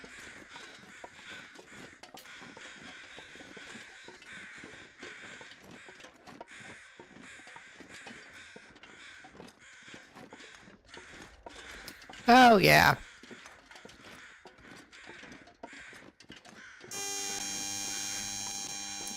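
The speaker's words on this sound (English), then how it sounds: "You crows sure are noisy." Crows caw repeatedly throughout in the Buried Echoes video game, with one loud caw burst in the middle, brief talk and a tonal sound at the end.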